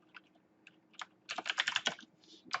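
Rapid typing on a computer keyboard, scattered keystrokes at first and then a dense burst of clacks, a pause, and a final flurry, close and fairly quiet with no talking.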